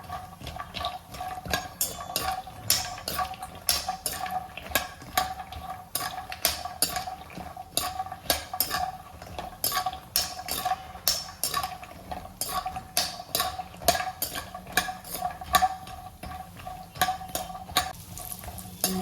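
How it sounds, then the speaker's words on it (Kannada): Dry fruits being roasted in a pan for laddu, with rapid repeated scraping and clinking of a spoon against the metal pan in a steady stirring rhythm, close and fairly quiet. "ಇವನ್ನು ಕೂಡ ಸ್ವಲ್ಪ ಕೆಂಪಾಗುವವರೆಗೆ ಹುರ್ಕೋಬೇಕು."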